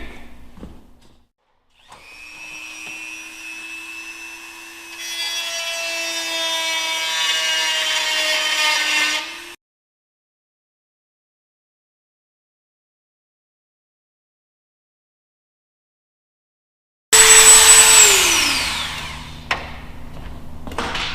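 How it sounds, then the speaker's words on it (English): A Dremel and hand files work over a pilot's door on a Fleet Canuck aircraft under restoration, bursts of whining grinding and raspy rubbing that start and stop, with a long silent gap before a final loud burst. "A little bit of time with the Dremel and some files to clean it up"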